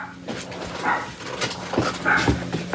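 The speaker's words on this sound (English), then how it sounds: "Hey, what are we barking at?" An indoor dog barks and whimpers in short, uneven bursts, wanting to be let outside; the calls come at moderate loudness over a steady room background.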